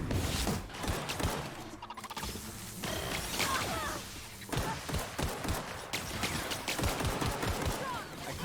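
Heavy gunfire in the video game The Outer Worlds: dense, overlapping volleys of shots mixed with clattering mechanical noise. The shooting builds to a loud, chaotic barrage that continues almost without a break.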